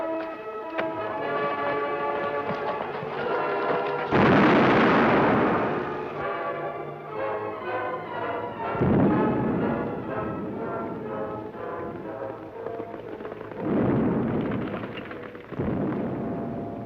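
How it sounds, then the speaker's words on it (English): Several heavy explosion blasts boom in a western setting, each a loud broad roar, with rumbling echoes and tumbling debris between them, up close and without talk. "Those blasts sure sound good, don't they?"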